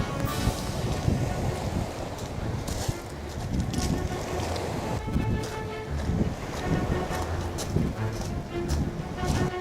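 Sea waves wash onto the shore at Değirmenbükü near Datça, heard during a coastal walk, with steady broadband surf and wind buffeting the microphone throughout and no talk.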